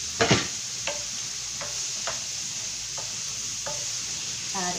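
Quinoa with scallions and cilantro stirred in an oiled pan: a soft sizzle underneath repeated spoon scrapes, about seven sharp strokes spaced roughly half a second apart, close up with no speech.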